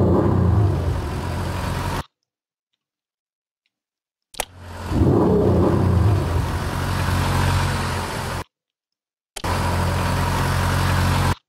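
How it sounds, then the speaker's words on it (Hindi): A car-passing sound effect plays as a steady, static engine rumble like a stationary car, cut into three separate stretches with abrupt silent gaps between them. "ये वाला साउंड इफेक्ट था जो कि स्टैटिक सा है, गाड़ी खड़ी हुई है, ऑल्दो ये इसका नाम कार पासिंग है"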